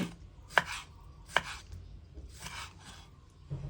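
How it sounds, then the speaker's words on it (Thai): A knife chops cooled, boiled pork skin into pieces on a board for Thai crispy pork cracklings, giving a few sharp, close thuds at irregular intervals with soft scraping between them. "หนังหมูเริ่มเย็นแล้วนะคะ เราก็เอามาหั่นเป็นชิ้น"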